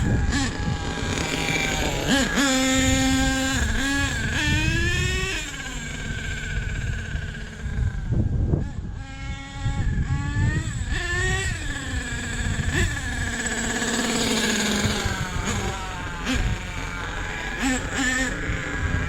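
A nitro-powered RC truck's small engine runs close by with a faulty throttle servo, buzzing loudly and rising and falling in pitch through repeated revs and dips, with brief bits of talk mixed in.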